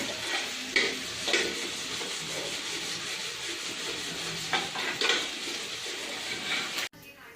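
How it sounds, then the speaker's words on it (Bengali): Steady crackling sizzle of onions frying in a pan, with occasional louder scrapes of stirring, ending in a sudden cutoff. "এই যে দেখো পেঁয়াজটা ভাজা ভাজা করছি।"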